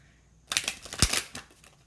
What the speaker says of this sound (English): I feel like I need to shuffle again